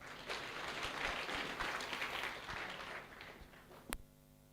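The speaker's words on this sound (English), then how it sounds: "Let's clap for ourselves." A university orientation audience claps together at Pwani University. The applause is faint and steady, then fades out, ending in one sharp clap.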